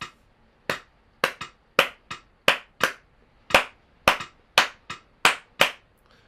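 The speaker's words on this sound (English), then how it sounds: "That's son clave." Son clave rhythm beaten out in a clave lesson for improvisers: crisp, loud wooden clicks repeat in a syncopated cycle of clustered and spaced strikes, heard alone and close.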